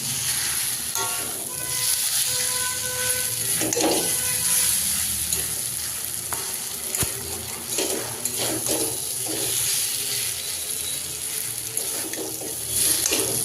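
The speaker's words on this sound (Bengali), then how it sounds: "কাঁঠাল বীজটা যে বেটে রেখেছিলাম ওটা দিয়ে দিব। ভালো করে কষিয়ে নিব।" Pointed gourd sautés with spices and ground jackfruit seeds in a pan, giving a continuous sizzle with intermittent scraping stirs and occasional clinks of utensil on metal, close and fairly loud throughout.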